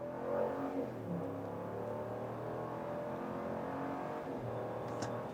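A RAM 1500 pickup with a 5.7-litre V8 accelerates hard from a standstill after a brake-stall launch, its engine a steady, muffled roar heard from inside the cabin that builds evenly through the run.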